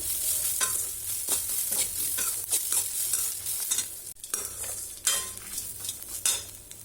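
Grated coconut and curry leaves fry in a pan while being stirred, giving a steady close sizzle with repeated scraping strokes of a spoon or ladle throughout.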